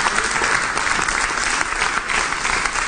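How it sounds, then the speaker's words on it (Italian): Studio audience of an Italian TV talk show applauding, a dense, steady roar of clapping at even loudness without a break. "allora anche qui ci vuole un applauso"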